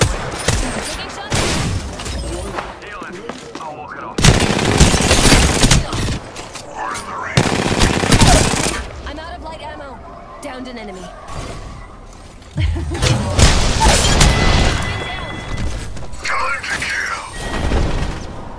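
Gunfire in the video game Apex Legends, loud bursts of rapid automatic shots and cracks in several separate volleys with pauses between, close and dominant, with a voice heard now and then.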